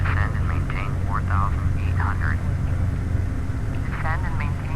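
Engine drone of a Beechcraft Baron twin-engine plane in Flight Simulator X, a steady low hum running under someone talking throughout.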